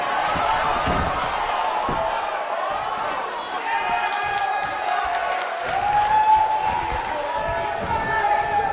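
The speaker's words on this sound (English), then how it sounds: "We have a sold-out, record-setting crowd here for BCW tonight." Arena crowd noise in the wrestling video game WWE 2K19, a steady roar of cheering with a few sharp impacts, heard under continuous talking.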